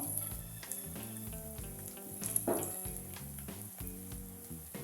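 Onions fry in a pan with salt, with turmeric to follow: a steady, soft sizzle runs throughout beneath background music, with no talk.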